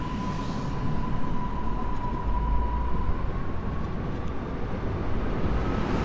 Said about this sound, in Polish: Wjeżdża kolejny pociąg, tym razem to szybka kolej miejska, linia S4